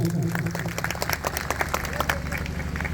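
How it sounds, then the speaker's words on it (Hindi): Audience clapping at a community gathering after a statue unveiling, scattered sharp claps forming an uneven rhythmic patter over crowd murmur and a loud background hum, with voices in the crowd. "एक बार मैं चाहता हूं आपकी तालियां हो जाए सभी की।"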